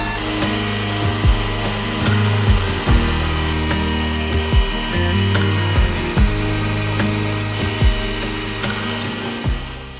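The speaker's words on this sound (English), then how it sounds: "So I'm gonna bust out the belt sander and finish shaping the handle." Belt sander running on the handle of a wooden charcuterie board, a steady machine hum broken by repeated strokes as the wood is pressed to the belt, close and loud throughout with no talk.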